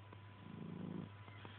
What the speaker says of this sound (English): now purring